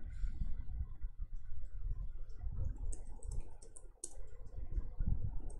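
Someone typing a search on a computer keyboard, a quick, uneven run of close key clicks and taps, with a few sharper clacks toward the end over a low, rumbly room background, with no talking.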